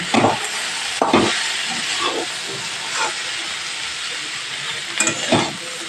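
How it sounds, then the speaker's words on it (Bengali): Vegetables with shrimp and Malabar spinach are stir-fried with spices in a pan, a steady sizzle broken by several bursts of scraping and stirring at irregular intervals, close and fairly loud, with no talk. "এইভাবে মশলার সাথে ভালোভাবে সবজিগুলো কষিয়ে নিতে হবে"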